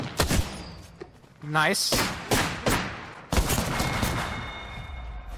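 Peacekeeper shotgun blasts in Apex Legends, a few heavy booming shots spaced apart amid other game effects, loud and close, with a voice speaking briefly between them.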